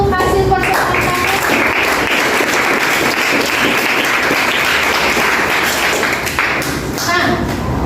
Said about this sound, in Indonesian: Tepuk tangan dulu untuk hasil percobaan kami.